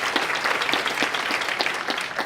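An indoor audience at a 2019 GSA Make a Difference Award ceremony claps for the performers, a dense, loud burst of applause with no voices over it.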